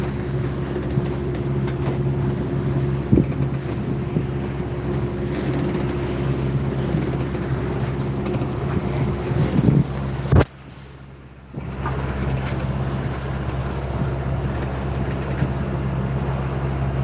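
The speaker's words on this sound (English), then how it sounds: "The motion of the ocean we're rocking with right now." A sailboat's passage on the open ocean off Fiji: steady wind and wash of waves with a low engine-like drone, interrupted near the end by a brief sharp knock and a moment of near-quiet before the rumble returns.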